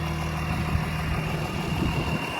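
A tractor engine runs steadily nearby, a constant idling drone with a mid-low hum and faint vibration, unchanging throughout with no voices.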